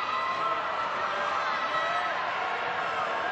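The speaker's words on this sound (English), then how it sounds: "crowd getting excited when the home side have the ball for however brief it is" A football crowd at a women's World Cup qualifier between Luxembourg and England roars steadily and excitedly as the home side gets the ball, a constant wash of cheering with a commentator talking over it.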